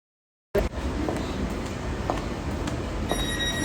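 A train rolls into a suburban station, a steady rumbling roar of wheels on rails starting abruptly after a brief silence, with faint squeals and clanks near the end.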